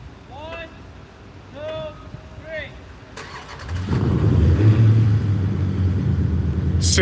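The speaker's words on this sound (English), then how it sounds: "Synchronized engine starting." Car engines, one of them a Dodge Durango, crank and catch together, rising into a loud steady rumble and idle after a stretch in which people talk.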